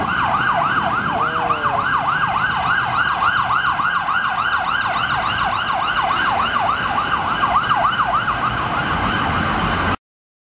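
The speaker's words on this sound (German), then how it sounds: "sind die Sirenen." Emergency vehicle sirens on a busy London street wail in a loud, continuous rising-and-falling cycle for about ten seconds, with steady traffic rumble underneath and no voices.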